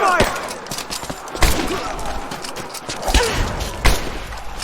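Gunfire in the video game Rise of the Tomb Raider: sharp, loud shots crack out irregularly amid a busy battle mix, with several heavier bursts spaced a second or two apart and voices shouting over the action.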